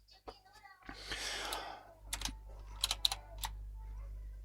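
Quiet, irregular keystrokes on a computer keyboard type a ChatGPT prompt, close by, with a soft breathy sigh partway through.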